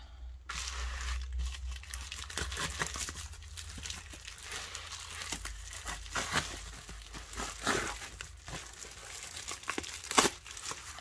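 Plastic packaging around a diamond painting canvas crinkles and rustles as it is unwrapped, irregular crackling bursts at close range, fairly quiet with one sharper crunch near the end.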